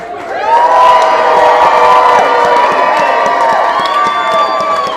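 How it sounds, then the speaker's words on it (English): A crowd at a Papa lookalike contest at Sloppy Joe's in Key West during Hemingway Days 2019 cheers and whoops for the contestants, with high whistles over a loud, steady roar that carries through the whole stretch. "Let's give a big round of applause for these gentlemen."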